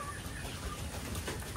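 Young laying hens, about four months old, cluck softly on a poultry farm. Their calls are steady and low-key, with no voices over them.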